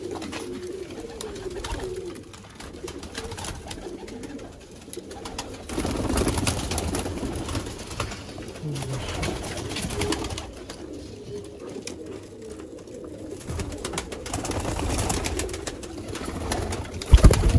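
Sialkoti Choohay pigeons coo in low, soft, rolling calls, repeated and overlapping at close range amid a rustling, fluttering background.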